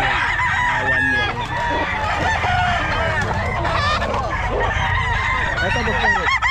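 Pumpkin hens and other fowl crowing and clucking in a crowded Bulacan pet market, several birds calling over one another, loud and near, amid busy background noise.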